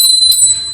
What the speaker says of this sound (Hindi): इसलिए हमने मात्र थोड़ा सा घंटी वादन किया है